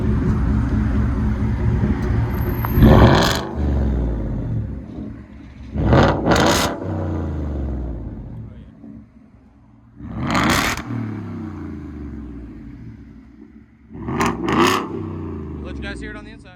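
A 2018 Ford F-150 with a 5.0L V8 and Borla ATAK cat-back exhaust idles with a deep burbling rumble while backing out, broken by four sharp rev blips that surge and fall away, heard nearby outdoors.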